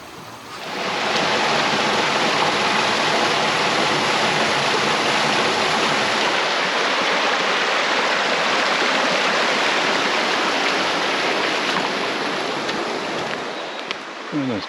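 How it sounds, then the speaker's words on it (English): The Kaimanawa River flows in a steady, loud rushing wash heard up close while someone walks in it, continuous and broadband throughout. "One of the most beautiful rivers I think I've ever walked in, this one."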